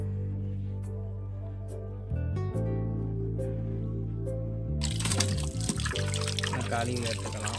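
Raw chicken is washed by hand in turmeric-tinted water: a trickle and light dribbling at first, then louder sloshing and splashing in the second half, with someone speaking nearby.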